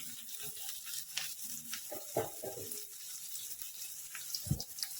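Soft, irregular sizzling and crackling of small onions hitting hot oil, with faint scraping and a few light clunks, moderately quiet and close.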